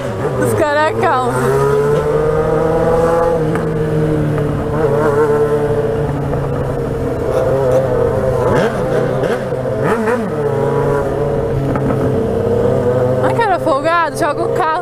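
Three Jaguar XJ cars rev loudly, engine tones rising and falling in sustained roaring sweeps close by, with people talking over the din throughout.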